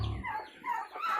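Chickens clucking nearby in a short burst, soft murmuring bird sounds with no talking.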